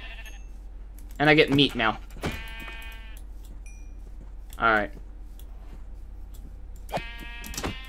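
Sheep in the video game Minecraft give several short, wavering bleats in separate bursts, with a person talking briefly over the game sounds.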